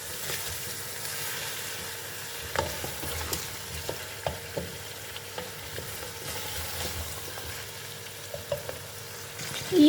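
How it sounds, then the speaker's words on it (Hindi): Bare paye (goat trotters) frying in oil with onions give off a steady low sizzle, broken by scattered clacks and scrapes of a stirring spoon in the pot. "अब हमने इसको इसके ऑयल के साथ और प्याज के साथ इसकी अच्छे तरीके से हमने फ्राई करनी है तकरीबन 5 मिनट के लिए"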